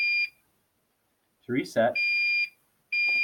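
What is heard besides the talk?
fire alarm control panel sounding alarm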